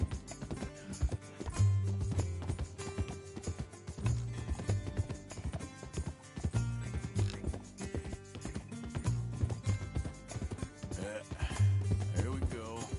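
Horse hooves clip-clop in a steady galloping rhythm through Red Dead Redemption 2 gameplay, loud and continuous across the clip with game music and effects layered in, and a faint snort or whinny at times.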